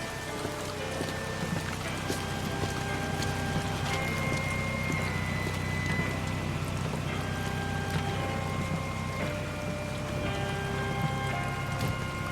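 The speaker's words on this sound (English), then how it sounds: "it's raining throughout this entire mission." Steady rain falls throughout a mission in Metal Gear Solid V: Ground Zeroes, a constant hiss of drops patters on surfaces beneath faint tonal music, even and unbroken.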